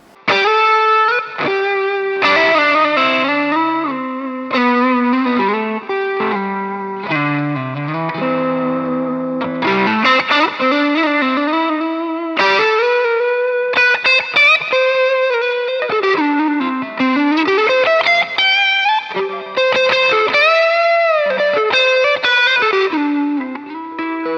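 Gusta GST-05 Strat-style electric guitar played through heavy distortion, with sustained chords and melodic lead lines ringing steadily and loud for the whole passage, no voices over it.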